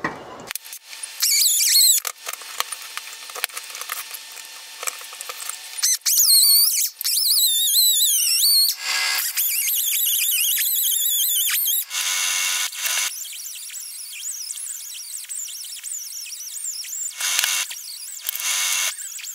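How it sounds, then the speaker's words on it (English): Metal hacking and cutting on bolts of a stainless steel Columbian vise base, with squeaky, grinding tool noise in bursts and longer sustained passes, close and loud, no talking. "now I have to hack off these bolts"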